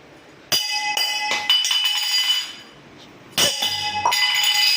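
Glass clinking as it is handed from one person to another: a few sharp, bright clinks at irregular intervals, close and fairly loud with a ringing tail.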